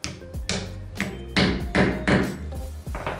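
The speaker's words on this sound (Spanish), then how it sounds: "Tomamos un martillo y vamos a darle unos pequeños golpecitos nada más para apuntarlo" A hammer gives about eight light, separate taps to seat a PVC reducer into wood, each a short sharp knock close by, spaced irregularly with brief pauses between.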